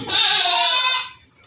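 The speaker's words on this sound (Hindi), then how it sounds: "फिट एक्टिव बकरा है माशाल्लाह।" A Barbari goat on a goat farm in Aurangabad, Maharashtra, giving a single clear, close bleat lasting about a second, a strong wavering cry that fades quickly into quiet.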